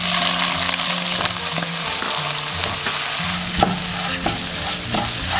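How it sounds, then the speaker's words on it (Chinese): Shrimp heads stir-fried in a hot wok with oil, scallion and ginger: a continuous loud sizzle broken by repeated scraping and clanking of the spatula against the pan, close up and without speech. "加入虾头，"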